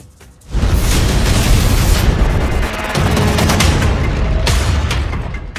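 Bombing explosions in the Iran-America war strike allied countries, a loud sudden blast that swells into a sustained, rumbling roar of booms and crackling debris lasting several seconds.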